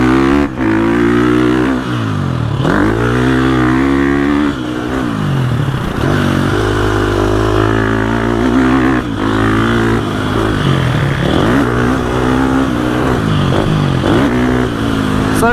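KTM EX350 dirt bike ridden in sand dunes, its engine loud and close throughout, rising and falling through repeated revs and gear changes with a rough, buzzing four-stroke tone and no voices.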